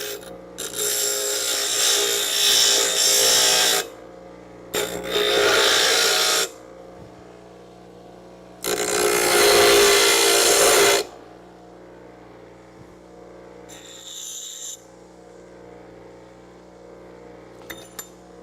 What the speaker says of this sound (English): So this little bench grinder right here, just going to give this a quick zap.